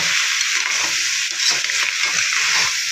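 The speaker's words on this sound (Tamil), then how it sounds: "கிளறி இறக்க வேண்டியதுதான் நண்டு வறுவல்" Crab fry is stirred in a hot pan, a steady close sizzle with scraping stir sounds running the whole time and no talking.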